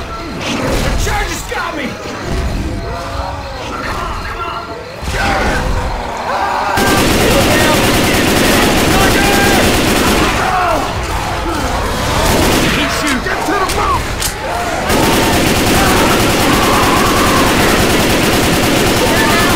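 Heavy gunfire aimed at the Tank in Left 4 Dead 2, loud sustained bursts of automatic shots and crashes that run almost the whole stretch, with excited voices talking over the shooting.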